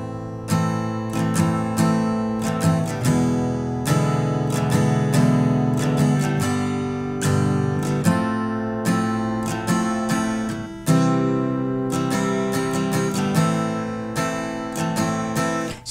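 Rhythmic guitar strumming of chords from a song, steady chords struck in a repeating pattern, loud and close, with no voices.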